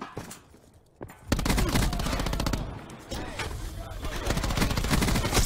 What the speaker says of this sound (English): War machine firing.